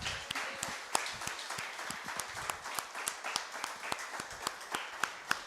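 Congregation applauding in a church at the close of a service, a dense, steady patter of many hands clapping with sharper individual claps standing out, moderately loud and continuous without speech.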